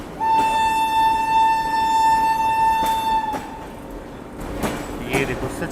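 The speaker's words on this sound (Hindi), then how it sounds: "ये देखो सचखंड एक्सप्रेस को यहाँ से डिपार्चर मिल गया" The Sachkhand Express sounds a long, steady horn blast close by, then gives way to rumbling departure noise with faint background voices.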